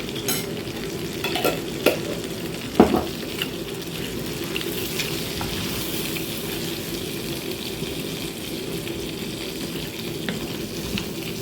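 Flour cooking in a pan is stirred with soft, continuous scraping over a low sizzle, with a few sharper scrapes early on and no voices.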